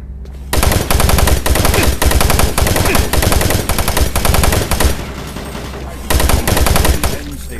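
In the video game Doom 3, gunfire blasts in loud, dense, rapid automatic bursts, close and harsh, broken by a couple of short gaps.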